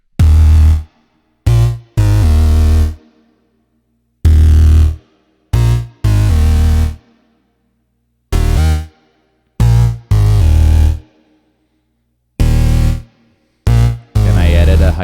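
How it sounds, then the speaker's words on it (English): A synthesized bass line with a bright top end and white noise plays in loud, punchy, choppy bursts separated by silent gaps, with a noisier high layer near the end. "I made this bass line."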